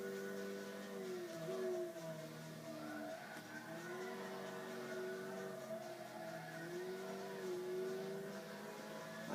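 Race car engine in a racing video game revs steadily through the gears, its pitch climbing and dropping with each gearshift, including one early shift, a continuous, close and fairly loud drone with no talk.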